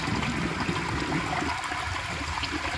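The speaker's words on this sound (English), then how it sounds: "second to last flush on the 1949 Alamo Potteries" A 1949 Alamo Potteries toilet flushes with a loud, steady rush of water that fills the whole stretch, close by and without speech.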